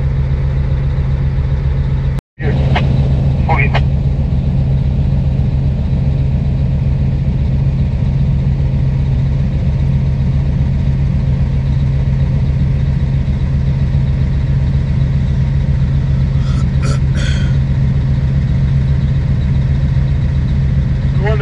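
A heavy rig-move truck engine works under throttle, its deep drone loud, close and continuous, with one brief dropout near the start and faint voices under it.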